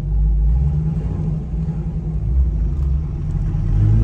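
A Chevrolet C5 Corvette's engine rumbles steadily while driving, a loud, continuous low-pitched drone with slight swells in revving and no talking.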